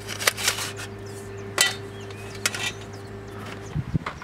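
A Trangia camping stove being assembled outdoors, its metal pots and parts clinking in a few sharp, separate knocks over a steady low hum, with faint birdsong in the background and no talking.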